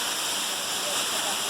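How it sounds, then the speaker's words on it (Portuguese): Véu de Noiva waterfall in Rio de Janeiro state, a loud, steady broadband roar of falling water that fills the whole clip without a break. "olha a cachoeira"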